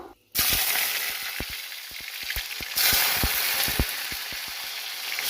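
Boiled potatoes hit hot oil already seasoned with bay leaf and panch phoron, erupting into a loud, steady close sizzle with a second surge partway through and scattered sharp pops and crackles over the hiss.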